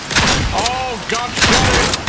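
Gunfire in the first-person shooter A.W.O.L, a Duke Nukem-style game, comes as dense overlapping bursts of shots and thuds across two seconds, loud and continuous, with voices talking over it.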